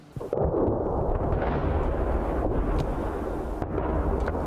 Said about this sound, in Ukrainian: Тут постійно чути вибухи.